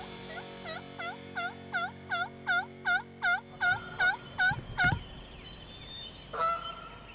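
Wild turkeys gobble in a Midwestern hunting area, a rapid series of about a dozen rolling calls building in loudness, followed by a short louder call near the end, with no talk.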